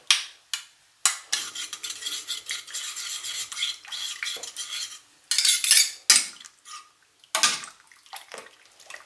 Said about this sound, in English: gonna use my spoon to chop up the miso